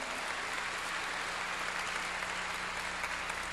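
Church congregation applauding during a sermon, a faint, continuous wash of clapping with a steady low hum underneath.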